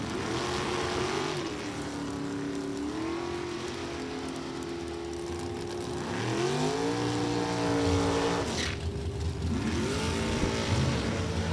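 Super Comp drag race cars, one with a 557 cubic inch Ford and one with a 615 cubic inch Chevy in a Racetech chassis, roar from a distance, engine pitch climbing and shifting in sweeps over a steady wash of track noise.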